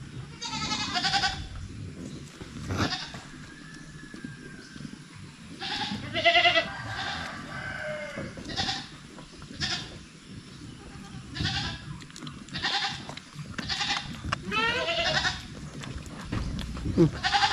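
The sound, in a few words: goats bleating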